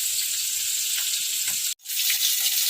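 Small fish fry in hot oil with a loud, constant crackling sizzle close by, briefly cut off once before the hiss resumes.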